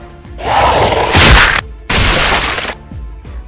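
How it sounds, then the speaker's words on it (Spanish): A gunshot sound effect in a stop-motion action scene, two loud, broad bursts with a sharp crack in the middle of the first, close and dominant, with no talk. "para la otra vez no te adelantes por oír un disparo"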